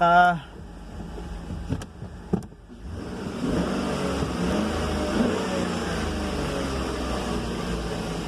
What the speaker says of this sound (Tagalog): may start na makina. Amandar yung makina.